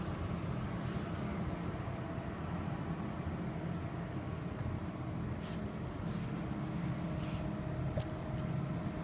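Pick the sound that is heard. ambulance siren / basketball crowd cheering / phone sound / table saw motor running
table saw motor running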